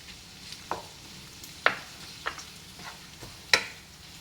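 Food mixture being stirred with mayonnaise, soft scraping strokes in an irregular rhythm, close and fairly quiet, with no voices.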